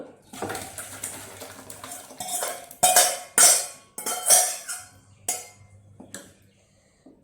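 Homemade green mango curry poured from a pan into a vessel: light splashing and liquid trickles broken by sharp metallic clinks and taps of utensils against the pot, close and moderately quiet, with no speech.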